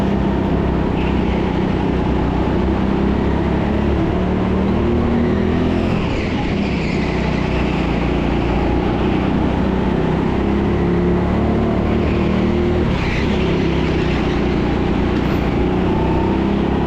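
Go-karts race around an indoor track in a 50-lap race, a continuous loud engine buzz from a close kart rising and falling with the corners, with other karts whining and tyres squealing at times.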